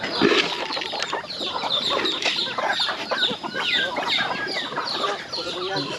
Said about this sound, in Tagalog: Yung mga native chicken naman, kusa sila nangingitlog.